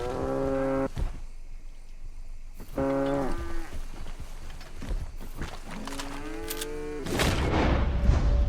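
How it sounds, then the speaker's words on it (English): A bull in Red Dead Redemption 2 lets out several long, deep moos with gaps between them. Each call is loud and close, over faint outdoor game ambience and some rustling. "Got to be careful of this bull."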